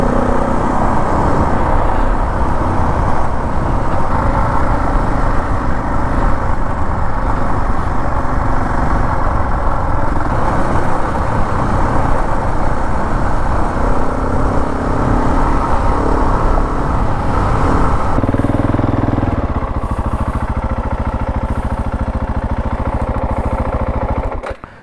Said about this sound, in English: Wait, there's still traffic coming.